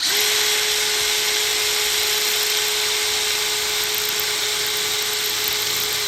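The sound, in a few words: electric drill drilling through metal gate for a new lock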